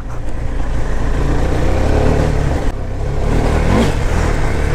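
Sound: KTM Duke 390 motorcycle engine revving off-road

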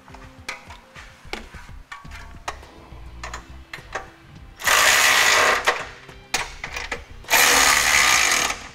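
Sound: power tool tightening Curt trailer hitch hardware

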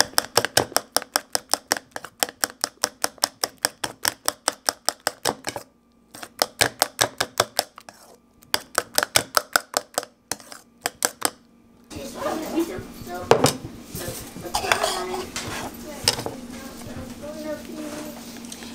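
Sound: mixing a hair recipe mixture in a bowl

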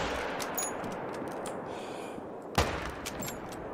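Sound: hunting rifle shot at a musk deer, from video game The Hunter: Call of the Wild

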